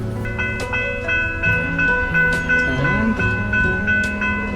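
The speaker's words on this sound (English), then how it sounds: "See, there's some train coming for us." A train rumbles along nearby with sustained horn-like tones and shifting mechanical pitches, steady and fairly loud, with no talking.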